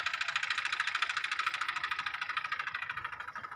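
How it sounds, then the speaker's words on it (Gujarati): A tractor engine runs steadily in a farm field during sorghum sowing, a low, even mechanical drone with a regular pulsing throb, heard at moderate distance and fairly quiet. "ટ્રેક્ટર આવી ગયું છે અને વાવવાનું કામ ચાલુ થઈ ગયું છે"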